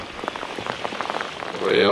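Pouring rain patters on the water of Lake Conroe, Texas, around a fishing kayak, a dense crackling hiss of drops, close, with a voice briefly starting at the end.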